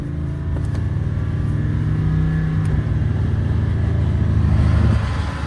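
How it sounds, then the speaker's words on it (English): An off-road vehicle's engine revs lightly and steadily while a winch drags it out of mud, a sustained low droning hum that holds for several seconds before easing off, fairly close. "Got the RPMs up just a little."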